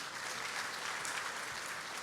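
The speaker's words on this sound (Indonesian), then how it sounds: "Tepuk tangan sama Tuhan Yesus." Congregation applause at an Easter church service, a dense, even wash of clapping hands at moderate distance, sustained throughout with no speech.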